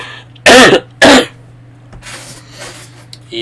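Two loud, harsh coughs or throat-clearing bursts from one person, close up and back to back, followed by quieter rustling and breathing over a steady low hum.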